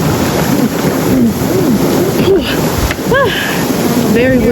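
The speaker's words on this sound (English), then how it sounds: "Very windy today." Strong wind buffets the microphone outdoors on a blustery day, a continuous loud roar and rumble, with a person's voice briefly heard over it.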